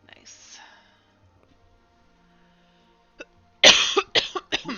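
A short cough sounds near the start, then after a pause a single tap and a burst of close, harsh coughs in quick succession, loud against near silence, from a person playing Final Fantasy XIV Endwalker on a livestream.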